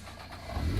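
A Nissan GT-R R35 with a quad exhaust idles loudly and close by on a cold start, a deep steady rumble that swells slightly toward the end of the short moment.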